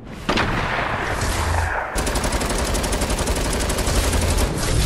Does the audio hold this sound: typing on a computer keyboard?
no